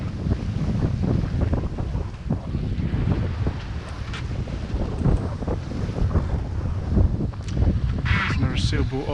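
Strong wind buffets the microphone aboard a sailboat under way from Penzance to the Isles of Scilly, a loud, steady roar with gusty low rumble and water rushing beneath, continuous throughout.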